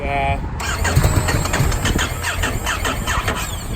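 A 2019 Ducati motorcycle engine cranks with a whining starter, then catches and runs with a rough, uneven rumble, close up, with a person talking over it.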